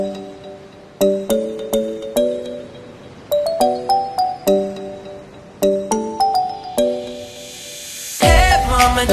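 Bright chime notes ring out in quick repeating clusters, like a notification bell jingle, each ding clear and close with a short decay, before a whooshing swell takes over at the end.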